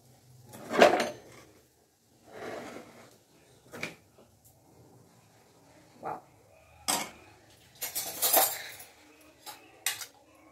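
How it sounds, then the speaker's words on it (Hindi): Cooked poha served from the pan onto a plate in a home kitchen, with scattered metallic clinks and scrapes of a spoon against cookware, close but soft, separated by quiet gaps. "तो फिर गैस को बंद करते हैं और निकालते हैं प्लेट में।"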